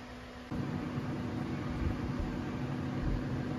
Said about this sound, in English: Now I'm going to put in the air fryer.